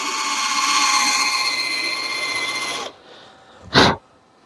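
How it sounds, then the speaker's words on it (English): A power drill bores through a mini lathe bed extension with a steady, close whine for nearly three seconds, then cuts off, followed by a brief sharp burst of noise. "I'm going to drill through"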